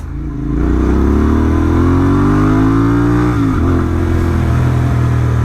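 An Interceptor 650 motorcycle fitted with an S&S camshaft pulls hard under full throttle, its loud, close engine note climbing steadily in pitch, briefly dipping at a gear change, then droning on at high revs.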